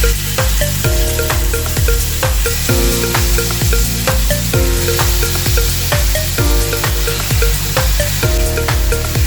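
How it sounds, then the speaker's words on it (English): Chicken skewers grilling in a buttered pan, a loud, steady sizzle with a rhythmic pattern of soft knocks and scrapes repeating through it, no talk. "butter your pan and grill the chicken on both sides until it gets all golden brown"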